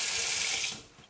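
Water pours from a tap into a pot already holding butter and onion, a brief hissing gush that tapers off after under a second.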